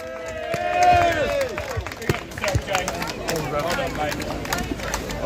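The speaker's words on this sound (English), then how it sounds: "Give yourself a round of applause" Outdoor crowd at a street protest in Whitehall, London, breaking into scattered clapping and cheering, dense at first and thinning into sparse claps over background murmur and street noise.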